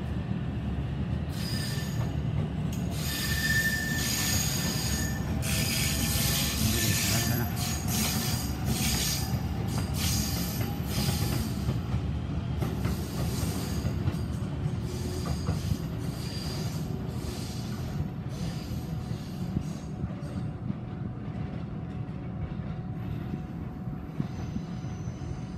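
A Shinkansen bullet train runs through Hamamatsu station in Japan with loud, sustained rumbling and long stretches of high metallic wheel squeal, bursts of screeching and clatter rising and fading over a steady roar.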